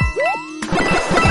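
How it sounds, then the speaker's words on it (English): A short bright electronic outro jingle closing a gaming tutorial: a rising chime sweep followed by quick plucky ringing notes, loud and alone. "Outro music."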